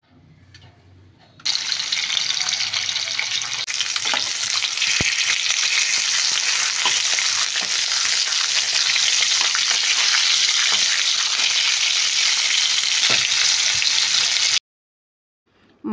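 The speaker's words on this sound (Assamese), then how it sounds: "ইয়াতে হালধি আৰু নিমখ সানি মই মাছখিনি প্ৰথমতে ভাজি লম" Bhokua fish coated with turmeric and salt sizzles steadily in hot oil, a loud continuous fry that holds for about thirteen seconds before cutting off abruptly.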